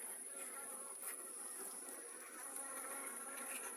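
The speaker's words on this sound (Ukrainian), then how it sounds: "Так, бджоли заходять." A faint, steady hum of many honeybees entering a six-frame hive carries on without pause beneath a thin background hiss.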